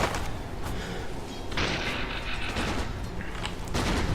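Gyrocopter's Flak Cannon firing in Dota 2 comes through as repeated thumping shots and mechanical bursts over a busy, continuous game soundscape with shifting effects.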